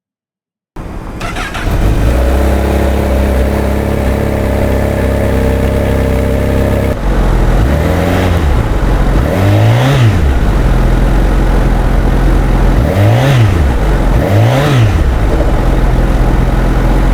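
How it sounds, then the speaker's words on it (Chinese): A 2025 Honda CB1000 Hornet SP motorcycle starts and idles with a deep, loud exhaust burble, then gets revved in several short, sharp blips that rise and fall, close up. "我们来听听看看这台排气声浪声音"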